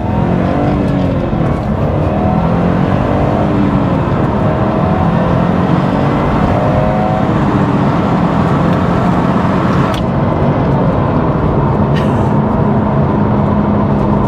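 A Subaru Impreza STI Anniversary pulls away and accelerates, loud and close, its engine pitch rising through the gears with a steady, heavy drone.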